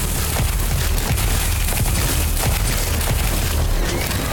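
Dense, rapid gunfire from the Sker Ritual video game, a continuous barrage of booming shots and bursts packed together at steady loudness throughout, with no pauses between volleys.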